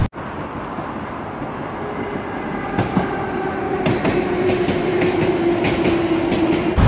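A Kyiv metro train at Dnipro station rumbles steadily with clattering wheels, rising clicks and a faint high wheel whine, loud and close, with no voices.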